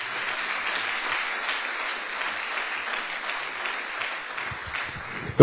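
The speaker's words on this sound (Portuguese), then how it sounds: "dá uma salva de palmas para o Senhor" A church congregation applauds steadily during a sermon, a sustained wash of many hands clapping at moderate volume from a room full of people, holding evenly throughout.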